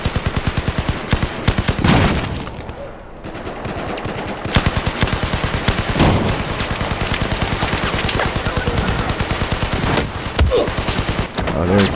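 Sustained automatic gunfire in Battlefield 4, dense rapid bursts of shots nearly continuous across the whole stretch with a brief lull partway, loud and close, with faint player chatter underneath.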